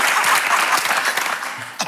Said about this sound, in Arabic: تصفيق